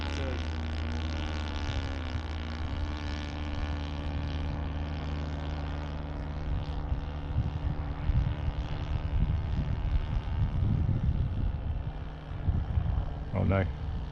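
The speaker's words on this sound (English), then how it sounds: "Engine sounds very dodgy though." A 0.65 nitro four-stroke engine on a Hobbyking VQ Models Tiger Moth RC plane, running roughly on its maiden flight, drones steadily at moderate distance throughout, with people talking over it.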